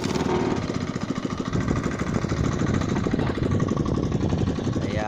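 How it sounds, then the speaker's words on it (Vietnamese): A boat engine starts and then runs steadily, a loud, close mechanical chugging with a fast even pulse that holds throughout, heard alone on the water before netting fish. "Tiền là nổ máy các bạn."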